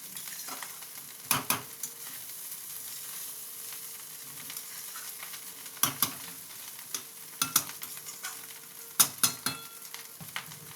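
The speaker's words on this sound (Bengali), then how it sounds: "ডিমটা দিয়ে একটু আমি নাড়িয়ে নেবো" Egg fried rice stirred in a frying pan, a soft continuous sizzle punctuated by sharp spatula scrapes and taps against the pan in irregular bursts, close and with no talking.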